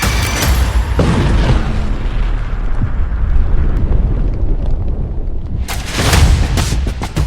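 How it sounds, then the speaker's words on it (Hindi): A huge, roaring explosion at the Russian Black Sea Fleet base in Novorossiysk rumbles continuously with heavy low-end booming, followed by a fresh loud blast near the end. "फिर नोवरोसिस्क अड्डे पर होता है बड़ा धमाका"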